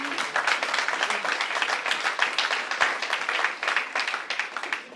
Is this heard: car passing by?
no